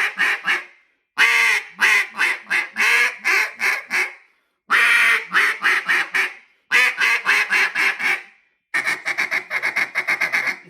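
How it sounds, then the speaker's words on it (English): Duck call blown in a loud, sharp feed call: rapid bursts of clipped quacking notes in quick rolling runs, several separate sequences split by short pauses, close and piercing with no talk. "Hear that sharp, how loud a feed is, really loud."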